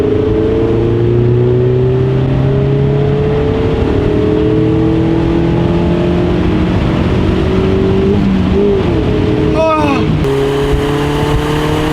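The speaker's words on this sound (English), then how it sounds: "here we go, revving this thing" The 2.0-litre engine of a 2016 Mazda MX-5 hums steadily up close at a held pitch, then gives two quick blips of revving toward the end before settling back to idle.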